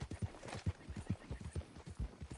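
Horse hooves clip-clop in a steady, even rhythm in Red Dead Redemption 2, each hoofbeat close and distinct with no talking over them.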